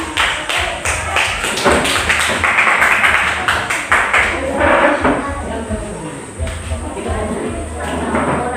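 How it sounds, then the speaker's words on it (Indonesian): A classroom of students claps for a presenting group, a crowded patter of hands with a few sharper taps and thumps that runs for several seconds, dips briefly and then picks up again, with voices talking over it. "Mari kita sambut kelompok satu dengan tepuk tangan."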